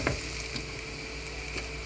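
Crispy sauce-coated zucchini rings frying in hot oil in a pan, a steady, soft close-up sizzle and crackle with no talking.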